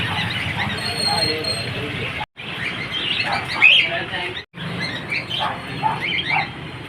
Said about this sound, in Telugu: ఇవి లవ్ బర్డ్స్ అనేటండి ఇవి నార్మల్ అవి బ్రీడింగ్ బర్డ్స్ అంటండి